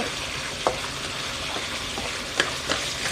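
Crispy pork being stir-fried for a holy basil stir-fry after water is added, producing a continuous, moderate sizzle broken by a few sharp spatula clacks and scrapes, with no voices.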